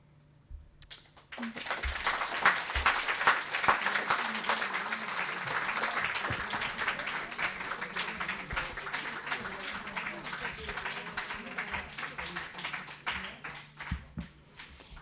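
An audience at a history lecture breaks into warm, sustained applause that swells after a quiet start and carries on at steady strength for over ten seconds before tapering slightly.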